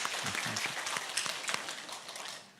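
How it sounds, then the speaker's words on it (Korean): A church congregation gives a steady round of welcoming applause during a Sunday worship service, moderately distant and even, with no speech over it. "함께 박수로 환영해 주시기 바랍니다."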